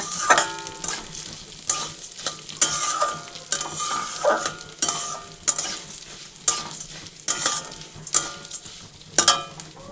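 Moong dal frying in a pan while a spoon stirs it, irregular scraping strokes and clinks over a continuous close sizzle, no voices.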